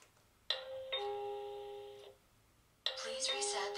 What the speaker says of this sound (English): Press the bell button and tap next.